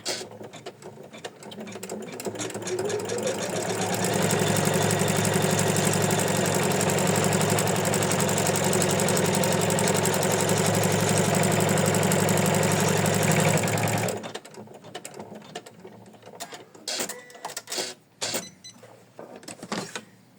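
An embroidery machine stitches felt onto an in-the-hoop ornament with a loud, steady, rapid whirr that runs unbroken for about fourteen seconds. It then stops, leaving faint clicks and handling noises.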